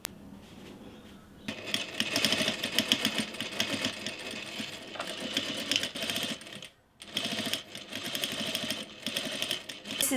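A sewing machine quilts padded camera bag pieces, giving bursts of fast rhythmic stitching with a brief pause midway before the steady mechanical chatter resumes, close and fairly loud.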